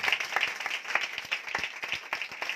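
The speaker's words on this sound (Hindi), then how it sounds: "जरा जोरदार तालियां बजा, स्वाद आ जाए।" A worship congregation claps in a steady, rhythmic beat during a Sunday church service, the hand claps regular and moderately loud with a faint voice underneath.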